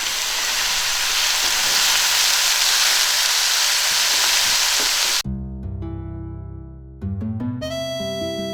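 Vegetables sizzle loudly in leftover pork belly oil as they are mixed around in the pot, a dense, steady hiss that cuts off abruptly and gives way to music.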